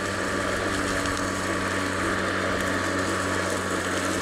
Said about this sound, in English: now we're gonna start the mower